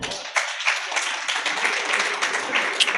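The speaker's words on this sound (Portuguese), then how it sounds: "Uma salva de palmas para ele." An audience claps for a speaker being introduced at a tech talk, a steady spread of many hands forming a moderate, continuous patter with a few sharper individual claps standing out.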